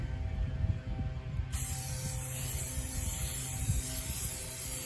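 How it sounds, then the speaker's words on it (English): Sealant is sprayed onto an outdoor chainsaw-carved wooden sculpture on a windy day: a steady close hiss starts after a brief pause and runs continuously to the end over a rumbling background. "Spray him down until everything is wet, and then we'll brush."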